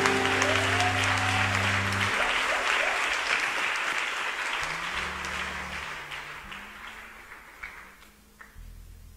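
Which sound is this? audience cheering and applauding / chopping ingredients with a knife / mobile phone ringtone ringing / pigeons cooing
audience cheering and applauding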